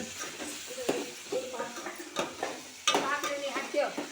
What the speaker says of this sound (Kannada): ಈಗ ಅರಿಶಿನ ಹಾಕಿ ಟರ್ಮರಿಕ್ ಈ ಫ್ರೈ ಆಗ್ಬೇಕು.